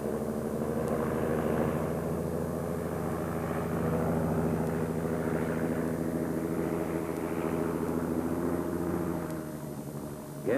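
An aircraft taking off from an airport, a loud, sustained engine drone with steady tonal hum that holds throughout and eases slightly near the end, with no talking.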